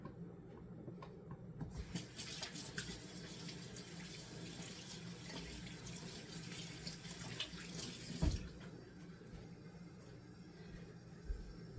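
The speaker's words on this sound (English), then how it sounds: "I'm going to wash my hands." Water runs steadily from a kitchen tap into a sink during hand washing, a close, continuous splashing rush that cuts off near the end.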